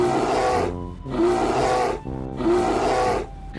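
A bear roars loudly three times in a row, each deep, throaty bellow swelling and then breaking off before the next one starts.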